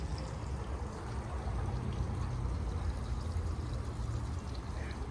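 Steady splashing and trickling from a water feature at a large garden center, a continuous moderate wash of falling water with no pauses and no talk.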